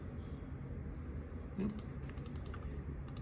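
Keystrokes and mouse clicks come from a computer keyboard while Siemens Sinamics G120 firmware files are selected and copied, faint close taps with a short burst of clicks midway and no voices.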